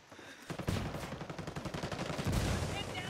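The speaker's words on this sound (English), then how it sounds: "Grenade, I'm gonna throw grenades. Frag out." Frag grenade blasts and gunfire in the shooter game Ghost Recon Wildlands: a dense, booming roll of explosions and shots rising after a brief quiet start, loud and sustained, with no voice over it.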